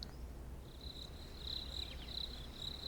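Crickets chirp in a steady, faint high-pitched trill that pulses in short bursts, alone over a quiet background hiss.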